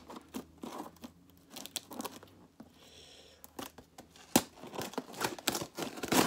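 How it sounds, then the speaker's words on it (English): Safety scissors snip and crunch through packaging on a box, heard as a close series of sharp irregular cuts mixed with crinkling and rustling that thickens toward the end. "Got my trusty safety scissors here."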